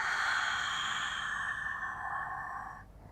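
A long, steady breath is let out during Pilates diaphragmatic breathing, a close airy exhale lasting nearly three seconds that fades out at the end.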